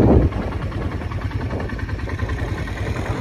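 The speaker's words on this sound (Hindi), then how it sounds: "अब हम जा रहे हैं कॉर्ड बाइकिंग के लिए" A quad bike engine idling in the Dubai desert, a steady low, throbbing mechanical drone that stays even throughout after a brief louder burst at the start.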